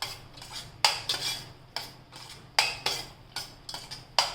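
Apples sautéed in caramel in a pan for an apple crumble, stirred with a utensil that makes repeated close scraping and clanking strokes against the pan in an uneven rhythm, with no talking.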